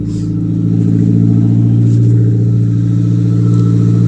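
A Nissan car engine running steadily right after starting, with a close, loud, even idle hum and constant rumble throughout and no talk.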